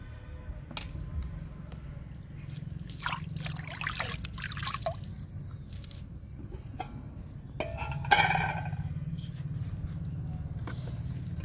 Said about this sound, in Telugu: ఇది పొట్లకాయ పప్పు అండి మిగిలిపోయింది ఈ లిక్విడ్లో కలుపుతున్నాను